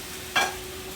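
Clams dropped into a hot pan with garlic and pepper for pasta con vongole give a short burst of sizzle, brief and fairly soft over a low steady hum.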